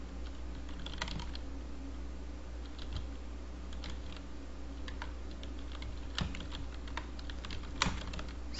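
Fingers typing a username on a computer keyboard while filling in a software registration form: quick, uneven clusters of light key clicks close by, with brief pauses and a low steady hum underneath, no voices.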